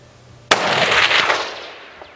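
A single loud rifle shot during a kudu hunt in the South African bush: a sharp crack followed by a long, rolling outdoor echo that slowly fades.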